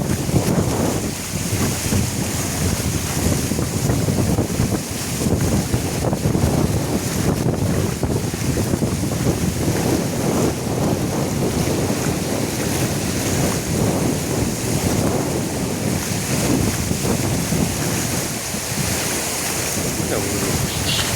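Floodwater pours into a village at Koorai Aathimottai in Mannar, Sri Lanka, as a loud, continuous rushing roar with wind buffeting the microphone, unbroken for the whole stretch.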